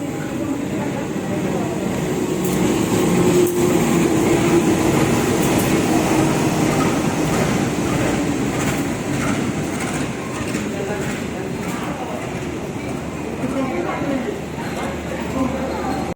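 Train ride from Kalibaru to Waru station in East Java: a continuous rumble of the rail car interior with faint clickety-clack and an air-conditioning hum, steady and moderately loud, with people talking over it.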